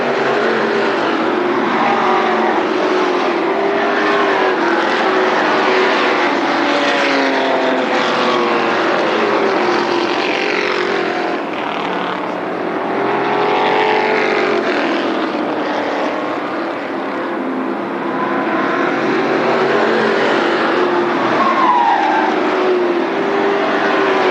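Late model stock cars race around an oval track at Berlin Raceway, a continuous roar of engines with rising and falling passes as cars go by, loud and steady throughout without talk.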